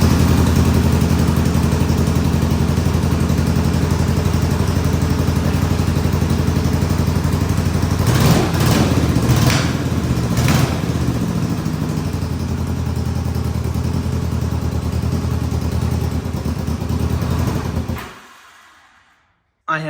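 A Honda CB450 motorcycle engine, warm and out of fuel, runs roughly on a single cylinder, a loud steady idling rumble with clattering that continues for most of the stretch before cutting out abruptly near the end.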